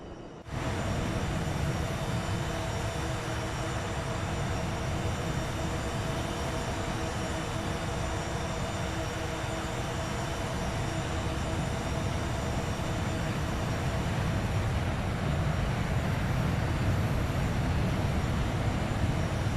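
Vulcan jet engines roaring during a vertical takeoff in a flight simulator game, a loud, steady broadband rumble with a deep low end that holds constant throughout after a brief quieter start.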